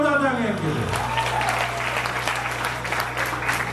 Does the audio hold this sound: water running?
no